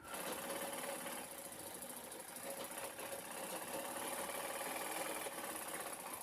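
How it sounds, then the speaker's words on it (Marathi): Sewing machine stitching the side of a fabric bag made from an old gown, a fast continuous mechanical whirring with rapid needle rhythm, steady and close throughout. "आता मी फोल्ड करून साईड शिवून घेते बॅगेची"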